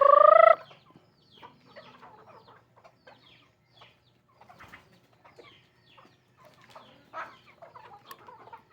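Chickens squabble while being fed. A loud squawk opens the sequence, followed by scattered softer clucks and pecking sounds nearby.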